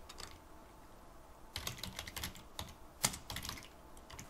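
Keys clatter on a computer keyboard in a few quiet bursts of clicks, close and fairly faint, ending with one sharper keystroke. No one speaks.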